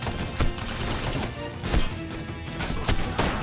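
Automatic rifle gunfire in PUBG, loud sharp shots arriving in short irregular bursts over dense game ambience, without any talk.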